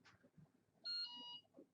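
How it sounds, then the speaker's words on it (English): Beeping tone from a Viper2 DTG printer as it finishes powering down, a single sustained electronic beep of about half a second, clear and close in a quiet room. "I'll let it finish powering down completely. Once I hear the beep, then I can power it back up."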